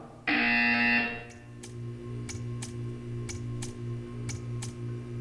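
A loud harsh buzzer in the video game Portal 2 sounds for about a second, followed by a steady low hum with repeated faint ticking clicks.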